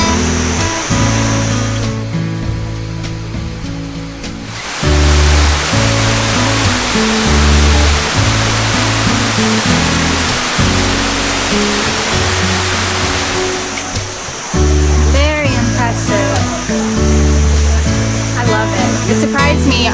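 A steady roar of rushing water from Kuang Si Falls in Luang Prabang fills the background, with rhythmic music playing loudly over it throughout.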